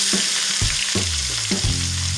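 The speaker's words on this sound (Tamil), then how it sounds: "இப்போ இந்த வெங்காயம் நல்லா வதங்கணும்." Finely chopped onions frying in hot oil with spices for an egg curry, a steady close sizzle with a spoon stirring and knocking against the pan a few times.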